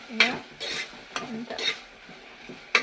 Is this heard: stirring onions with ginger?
yes